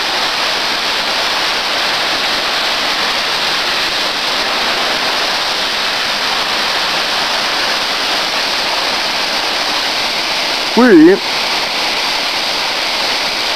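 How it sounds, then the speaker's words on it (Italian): A waterfall roars as constant broadband rushing water, loud and close, with a short spoken word near the end. "Vi mostro adesso anche un altro punto della cascata."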